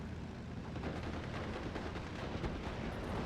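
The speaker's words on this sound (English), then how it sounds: "Do got another Hurricane, or the same Hurricane now moving forward, coming from another strafing run, trying to hit these Fallschirmjägers" A Hurricane fighter's strafing gunfire in the WWII strategy game Steel Division 44 rumbles as a dense, continuous barrage of bursts and muffled blasts, steady and moderately loud for a few seconds.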